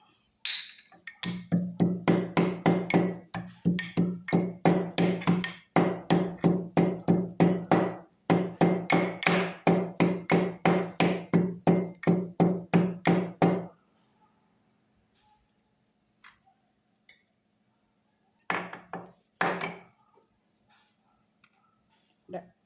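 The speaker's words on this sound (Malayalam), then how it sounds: "ഒരു അഞ്ച് ഏലയ്ക്ക ഉണ്ട് അഞ്ച് ഏലയ്ക്ക നമുക്ക് ചതച്ചിടാം" Crushing five cardamom pods by hand-pounding for a semolina dish, with rapid rhythmic thumping in long bursts, a few short pauses, then a final brief burst, close and fairly loud.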